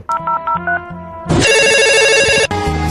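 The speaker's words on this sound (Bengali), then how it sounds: "একটা ফোন দিয়ে দেখি কোথায় আছে" A phone rings in short repeated electronic beeps, then a louder melodic ringtone plays continuously, close and clear.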